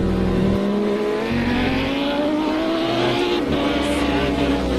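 GT3 race car in Project CARS at the Dubai circuit, engine note dropping steadily under heavy braking into a corner, loud, continuous and close, with faint tire noise and no talk.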